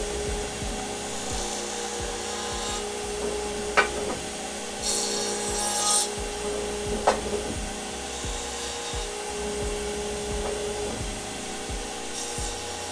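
A router with a round-over bit trims the corners off soft cedar wood, giving a steady whirring drone with a few short sharper bursts as the cutter bites, loud and close with no talking.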